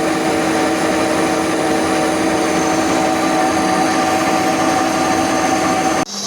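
A metal lathe takes a heavy roughing cut, a steady, loud grinding whir with a rough chattering edge as chips peel off, running continuously and then cutting off abruptly near the end.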